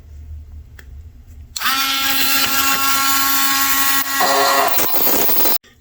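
A Dremel rotary tool cuts through a toilet bolt with a loud, steady high-pitched whine that starts abruptly, runs for about four seconds with a slight pitch drop near the end, then stops.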